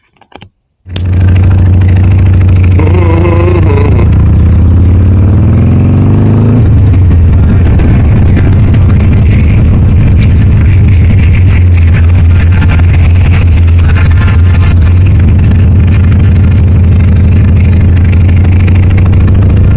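Harley-Davidson Iron 883 motorcycle starting up and riding off, a loud deep V-twin rumble that jumps in abruptly, revs briefly, then settles into a steady close throbbing drone with wind buffeting.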